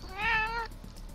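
A single cat gives one clear, drawn-out meow close by, followed by a short quiet pause and an abrupt knock at the end; no one speaks.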